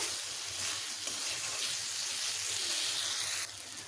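Spice paste for a soyabean and potato curry sizzles and fries in oil with a little added water, a steady close hiss throughout with no talking.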